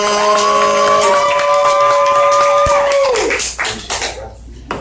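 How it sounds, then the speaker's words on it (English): A live audience at a spoken-word show claps and cheers for the host in a big, sustained burst, fading after about three seconds while a sustained tone sounds over the applause. "appreciate y'all for clapping for me"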